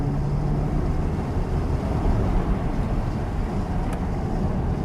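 Porsche 911 997 Gen 2 Carrera 4S with dual-clutch gearbox cruising on winding country roads, a steady low engine drone mixed with road and wind rumble inside the cabin, loud and continuous.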